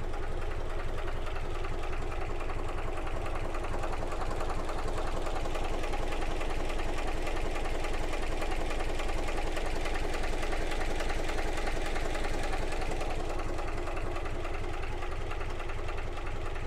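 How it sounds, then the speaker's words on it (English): A Gardner 3LW diesel engine in a narrowboat engine room idles steadily throughout, a low, even knocking chug that stays constant and close with no voices over it. "With a engine room housing a Gardner 3LW"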